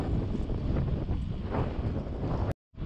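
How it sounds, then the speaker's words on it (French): Steady, heavy wind buffets the microphone during an outdoor fixed-gear bike ride in Saint-Raphaël, a loud continuous roar that cuts off abruptly near the end. "il y a un petit vent, hein, un petit vent à 15 km/h là"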